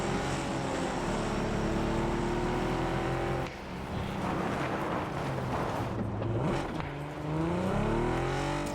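A car engine in PUBG revs and shifts, pitch climbing and dropping as it accelerates, steady and fairly close with no talking.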